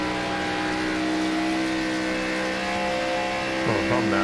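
Race car engine in the iRacing sim at Charlotte, a steady loud droning hum held at constant pitch, with a brief pitch dip and rise near the end.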